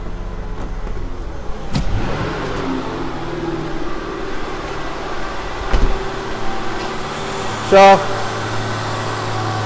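A Ford Escape engine holds a high idle that will not settle back down, a steady hum and drone through the cabin with a brief voice and a short tonal beep near the end.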